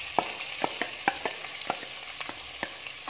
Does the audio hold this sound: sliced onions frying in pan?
yes